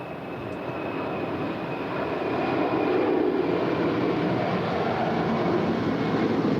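An airliner departing at LAX roars steadily, a broad, loud jet engine rumble that grows slightly and holds, heard from nearby on the airfield with no talking.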